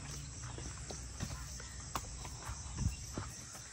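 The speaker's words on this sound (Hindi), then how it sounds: "अभी रानी को जो है ना थोड़ा सा राउंड पे लेके जा रहा हूँ, इधर से थोड़ा सा लेके जाते हैं, आज उसके बाद खाता हूँ फिर आपको मैं।" A horse is led around a farmyard, its hooves clopping softly and unevenly at a walk. Crickets chirp faintly in the background.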